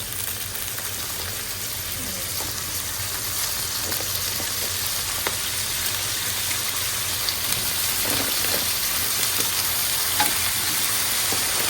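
Onion, garlic and ginger sauté in a hot pan, giving a constant, dense crackling sizzle close by with occasional sharper pops and light stirring scrapes.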